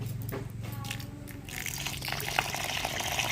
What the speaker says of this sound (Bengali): 3-4 বার জল পাল্টে চালটা ধুয়ে নেব